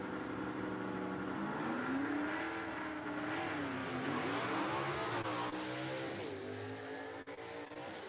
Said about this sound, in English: Another nice pass by the 67 Camaro there.